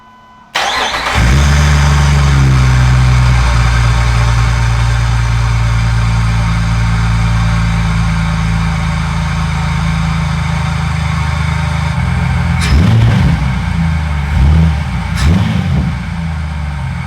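A Jeep TJ's engine cranks and catches after a spark plug replacement, then settles into a loud, steady idle close by, with a couple of brief revs near the end.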